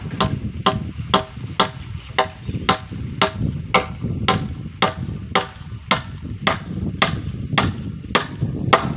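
A hammer striking sharply at a steady pace, about sixteen evenly spaced blows, close and loud over low background noise.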